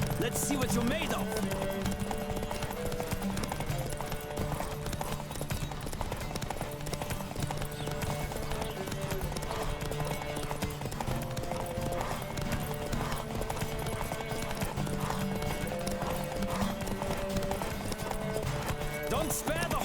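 A horse gallops in a race in The Witcher 3, its hooves pounding in a fast, continuous clip-clop over game music, with voices shouting.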